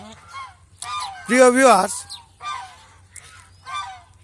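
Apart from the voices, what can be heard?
geese honking on a goose farm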